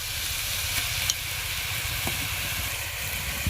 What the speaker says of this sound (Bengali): এবার আমি চিকেনটা টমেটোর সঙ্গে ভালো করে কষিয়ে নিব